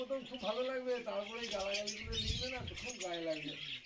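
Pet lovebirds, cockatiels and Java sparrows kept indoors chirp in quick, overlapping calls close by, with a person talking over them.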